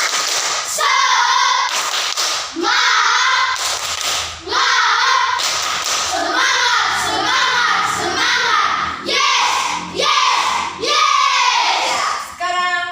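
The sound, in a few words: schoolchildren doing a spirit clap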